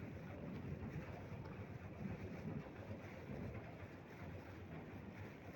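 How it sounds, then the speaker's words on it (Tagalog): Heavy rain pouring during a thunderstorm in Manila, a dense continuous hiss and roar mixed with gusty wind buffeting the microphone, steady throughout with no talk. "sobrang lakas ng ulan"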